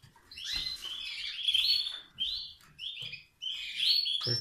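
Spanish timbrado canaries singing in an aviary, bright rapid chirps and trilled phrases in quick overlapping bursts, close and clear with short pauses between runs and a faint low rumble underneath.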